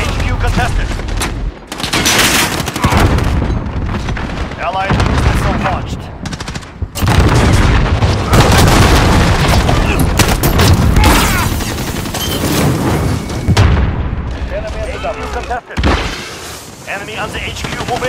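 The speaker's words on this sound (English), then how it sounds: "Allied missile launched." Missile strike explosions and rapid gunfire in Call of Duty Modern Warfare on the Shipment map, loud and near, with dense overlapping bursts and booms nearly continuous throughout, game announcer voice lines heard over the din.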